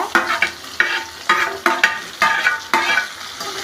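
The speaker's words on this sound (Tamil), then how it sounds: "நல்லா கிளறி விடுங்க வெங்காயம் போட்டுப்போம்" Onions are stirred and sautéed in a pan, with rhythmic scraping strokes about every half second over a bright, steady sizzle.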